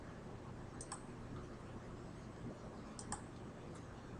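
Mouse clicks in OPNET network simulation software, a few sharp, faint clicks in pairs against a steady low hum, with no talking.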